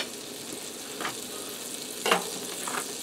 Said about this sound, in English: You want to slowly saute them and caramelize them down.